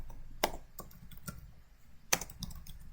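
Faint clicks of a computer keyboard as a short Matlab command is typed, a few scattered keystrokes with two sharper taps, quiet and close in an otherwise still room.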